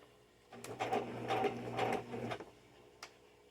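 A WHITE Model 1740 sewing machine runs in several short close bursts of rapid needle clatter, separated by brief pauses, then stops, with a single faint click afterward.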